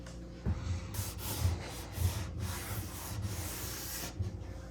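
Paint wash being rubbed back on wooden furniture with a cloth for an aged antique look, heard as soft, close, repeated scrubbing strokes in a steady rhythm.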